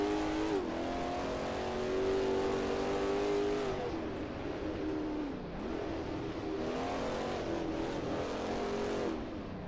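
A race car engine in Assetto Corsa at the 1939 Eläintarhanajot circuit in Finland, droning steadily with pitch rising and falling as it accelerates and shifts, sustained and fairly close throughout with no talking.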